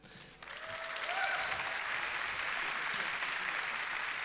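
A crowd at a live stage show breaks into sustained applause and cheering, swelling after a brief start and holding steady as a dense, moderately distant wash of clapping.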